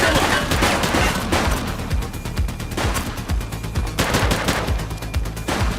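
Sustained gunfire in a shootout from the police video game The Precinct, with bursts of automatic fire and overlapping shots crackling loud and dense throughout, no voices.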